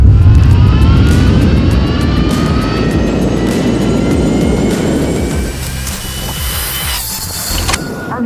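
An Ultraviolette F77 electric motorcycle accelerates hard at full throttle, a loud rising electric whine with heavy wind rush that eases off near the end.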